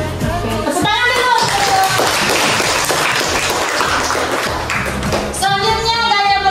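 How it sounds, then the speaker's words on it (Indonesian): A classroom group claps their hands in a brief round of applause, loud and close, with sharp individual claps at the start and a quick rhythmic burst of clapping near the end, children's voices faintly mixed in. "Tepuk tangan dulu."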